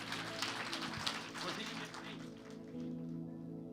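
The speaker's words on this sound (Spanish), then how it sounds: "Démosle fuerte ese aplauso al Rey." Applause from a church congregation, a dense patter of clapping heard at a distance, with a voice talking underneath.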